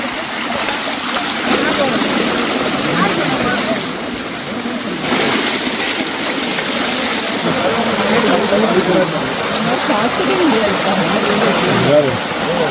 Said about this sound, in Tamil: படி ஃபுல்லாக தண்ணி வந்துக்கிட்டு இருக்கு பாருங்க